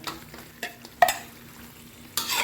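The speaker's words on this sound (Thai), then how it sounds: "ใส่หมูแล้วผัดรวมไปเลย" Pork is stir-fried in a pan for a Thai coconut-milk curry with pork bones and bamboo shoots, giving short bursts of sizzling and scraping, close and fairly loud, with a louder surge at the end.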